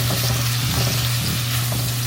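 Food frying in olive oil in a pan, a steady close sizzle with a low constant hum underneath, no voices.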